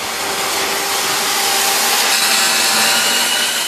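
An electric saw grinds loudly and continuously through plywood during shipping container repair at a port, a harsh, rough buzz that holds steady for a few seconds with no voices.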